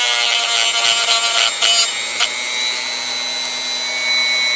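A small rotary tool fitted with a grinding accessory whines at steady high speed, grinding a small piece off, with brief scraping contacts early on and no talk.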